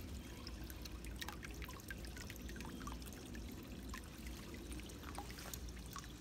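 Water trickles and dribbles steadily into a small garden pond, making a faint, continuous burble with light splashy droplets and no voices.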